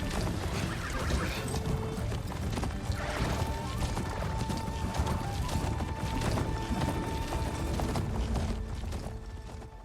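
Riding a horse-like machine mount in Horizon Forbidden West, a steady run of rhythmic clip-clop hoofbeats with metallic clanks over continuous rumbling ground noise, moderately loud for ten seconds.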